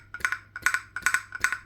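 A Fluval U aquarium filter's impeller rattling up and down, four short buzzy rattling bursts repeating about every 0.4 seconds, close and fairly quiet.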